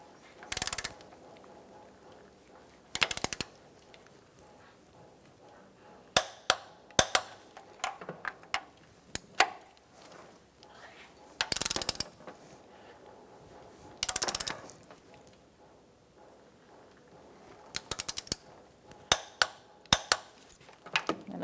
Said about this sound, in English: Now we can torque our nuts to 80 foot-pounds as well.